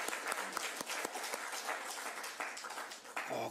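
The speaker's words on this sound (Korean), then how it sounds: "성령이 이곳에 함께 계심을 우리 환영의 박수를 드립니다." A church congregation claps in welcome during a worship service, a steady wash of many hands in quick scattered rhythm at moderate level, with no talking over it.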